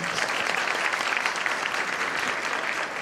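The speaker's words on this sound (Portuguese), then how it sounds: "palmas para eles aqui, gente." An audience at a workplace talk applauds with steady, dense clapping that holds at an even level throughout.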